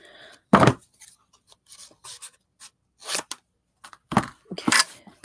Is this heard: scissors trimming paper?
yes